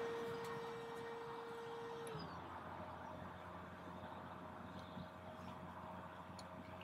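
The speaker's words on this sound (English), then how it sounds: "So literally just then, the compressor has just kicked in." Kampa Breeze electric air pump with its compressor stage switching on, a steady whirring motor hum whose pitch drops and roughens as the compressor takes over, faint and close, no talk.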